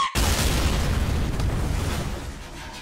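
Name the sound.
character exploding in a Mario video game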